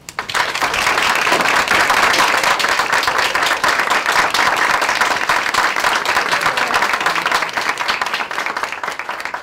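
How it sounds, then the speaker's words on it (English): Loud, sustained applause from a lecture audience, dense clapping that swells quickly and holds steady for about nine seconds before tapering slightly at the end. "So I want you to give a warm round of applause for my sister, Miss Millionaire Mindset, Roberta Hoskin."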